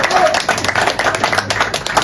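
Audience clapping and applauding at a gathering honouring Dessalines, a dense, steady patter of many hands with mixed voices and crowd noise underneath, fairly loud throughout.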